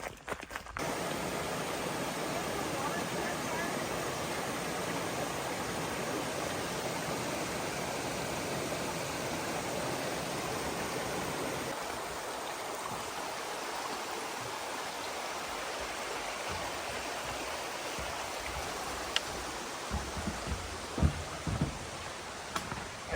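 A mountain creek on the Old Rag Mountain trail in Shenandoah, Virginia, rushes steadily over rocks, a dense continuous hiss of flowing water, with a few faint footsteps and knocks toward the end.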